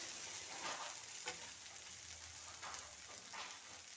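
Onions sauté until soft and browned in a pan, producing a soft, continuous sizzle with faint stirring scrapes.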